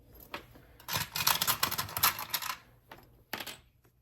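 Sewing clips snap onto the edge of a quilt binding in a quick run of sharp plastic clicks, followed by a couple of isolated snaps after a pause.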